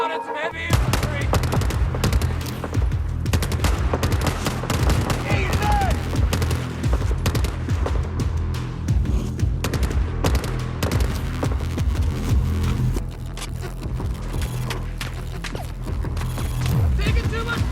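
Sustained automatic and single-shot gunfire from a Battlefield 4 milsim firefight, loud and dense throughout with bursts overlapping almost continuously and a voice occasionally under the shooting.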